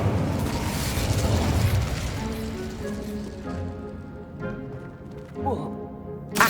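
Incendio fire spell cast in Hogwarts Legacy, a loud whooshing burst of flame that roars for a couple of seconds, then fades into softer crackling game effects with a sharp pop near the end.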